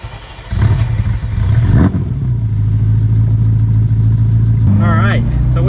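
A Ferrari F40's engine rumbles steadily and then revs as the car pulls away onto the streets of Calgary, loud and close, with voices talking over it.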